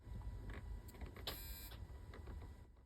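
A transmission solenoid test on a Jeep Grand Cherokee 2.7 gives a mechanical whirring hum with brief electric buzzing bursts, steady and fairly quiet, with no voices.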